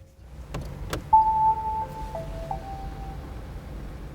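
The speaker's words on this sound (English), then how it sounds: "the turn off just sounds like either a strange circus, fun fair, or a sorry ice cream van" Switch-off chime of a 2021 Fiat 500e electric car: a short series of soft electronic tones stepping down in pitch, heard quietly inside the cabin after a couple of faint clicks.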